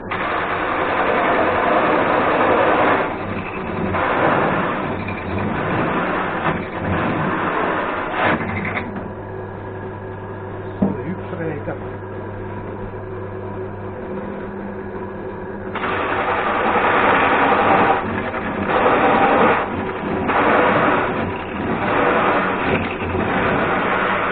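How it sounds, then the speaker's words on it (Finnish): A power drill bores through styrofoam up close, whirring and grinding in uneven bursts, easing into a steadier, lower hum midway before the harsh grinding returns. "porataan tosta reikä läpi"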